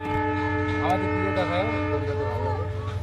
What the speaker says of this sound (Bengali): ট্রেন আসছে আবার